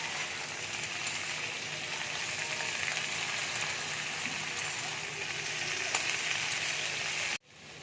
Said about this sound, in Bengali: ভালো করে ভেজে বড়িটা দিয়ে দেবো